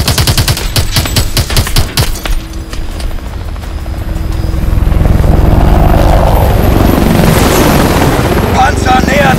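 Rapid bursts of heavy gunfire in Call of Duty: Advanced Warfare crack loudly at first, then a helicopter's rotor roar swells and dominates, with shouted German voices mixed into the battle noise in a forest.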